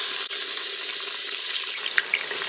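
Onions sizzling in hot oil with shahi jeera, a steady hiss of frying with a few light clicks near the end, no talking.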